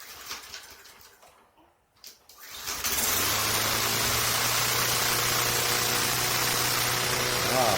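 A 2003 Craftsman M110 lawn mower with no primer or choke is pull-started, with two quick cord tugs followed by the small engine catching and settling into a loud, steady, smooth idle.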